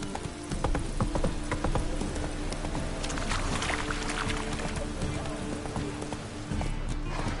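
Geralt's horse Roach trotting in The Witcher 3: Wild Hunt, with steady rhythmic hoofbeats throughout over a busy in-game ambience.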